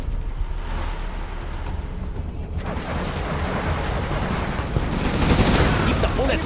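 Gatling gun firing in Command & Conquer: Generals, a continuous rattling barrage that swells louder midway and keeps running under battle noise and unit chatter.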